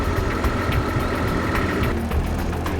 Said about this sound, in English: Wait for the preheat and start the engine.